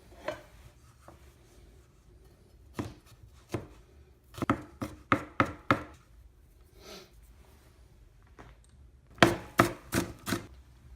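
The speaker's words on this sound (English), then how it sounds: "we're going to chop up 2 cloves of garlic and half of an onion" A knife chops two garlic cloves and half an onion on a board in short, sharp bursts, with quiet pauses between clusters of quick, close, rhythmic chops and no voices.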